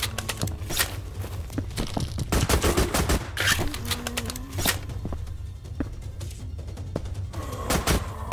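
An automatic turret in a blocky Minecraft-style Call of Duty zombies game fires rapid bursts of bullets, loud, dense gunfire rattling continuously with short pauses, close and unbroken by speech.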